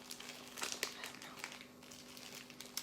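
A plastic package of wonton wrappers crinkles and rustles faintly while being opened with scissors, with soft irregular crackles and a steady low hum underneath.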